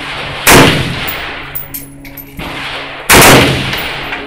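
Two loud, sharp AK-47 rifle shots at an outdoor shooting range, spaced roughly two and a half seconds apart, each a sudden crack trailing into a brief echo, with no talk.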